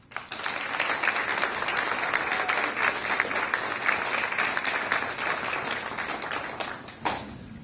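An audience gives a lecturer a sustained round of applause, a dense and steady wash of many hands clapping that holds for about seven seconds before tapering off.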